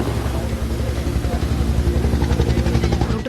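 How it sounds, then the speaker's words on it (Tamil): Six firefighting helicopters work over a wildfire in Norway, their engines and rotors making a steady, loud rumble with a faint rhythmic beat throughout, with no voices. "தீயை அணைக்கும் பணியில் 6 ஹெலிகாப்டர்கள் ஈடுபட்டன."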